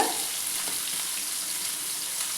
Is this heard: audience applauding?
no